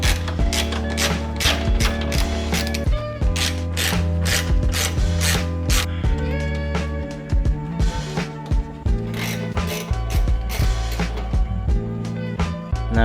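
Ratchet wrench clicking as bolts are loosened to remove the stock air intake on a Toyota 86, the rapid mechanical ticks running in bursts over a steady musical backing, fairly loud and without talk.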